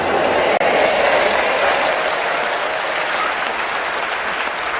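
A church congregation at a Catholic priest's sermon bursts into loud, dense, sustained applause that fills the space evenly and never lets up.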